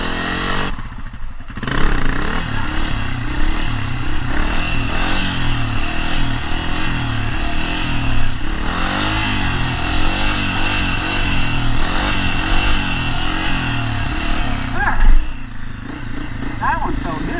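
A 2023 Honda CRF250F dirt bike engine revs hard and steadily as the rider pulls wheelies, the loud motor rising and falling close by with a brief dip near the start; a voice talks over it at moments.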